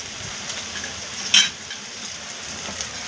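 Mashed roasted eggplant being stirred into a frying green chili and onion paste for bharit, a close sizzle with soft stirring scrapes and one brief metallic clink near the middle, no speech.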